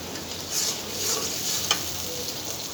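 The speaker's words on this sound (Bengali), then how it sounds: "এখন আমি যে টমেটো পিউরিটা দিয়ে দিব" Tomato puree hitting frying ginger-garlic paste in a pan for a home-style egg curry, a steady close sizzle with a few louder bursts and spoon-stirring scrapes throughout.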